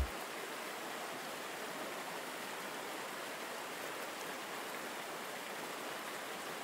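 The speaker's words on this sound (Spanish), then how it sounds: "El sonido continuo de la cascada sigue siendo un telón de fondo constante y calmante" Waterfall pouring continuously, a soft, even wash of rushing water with no breaks, faint and steady throughout.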